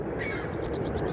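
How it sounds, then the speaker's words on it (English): Seagulls call raucously near a rail line in the Flats, a brief harsh squawk over a constant background rumble, with no voices. "All the seagulls are being rowdy."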